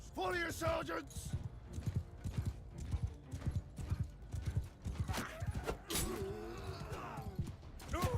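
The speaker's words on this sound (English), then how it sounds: "Let's go ahead and have them charge and have my horses charge as well." Cavalry horses charge in the Bannerlord video game, with a dense, rapid patter of hooves and bursts of neighing throughout. Busy battle noise surrounds them.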